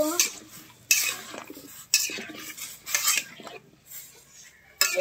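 A metal spoon clinks and scrapes against a cooking pot in four sharp bursts while chili is added to a rural beef and taro dish, with quiet gaps between strokes.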